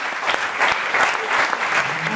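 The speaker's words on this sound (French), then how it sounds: "On peut l'applaudir." A short burst of audience applause at a corporate diversity event, many hands clapping at close range and sustained evenly throughout.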